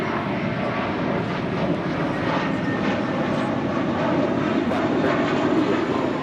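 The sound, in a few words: JetBlue Airways Airbus A321 departing to JFK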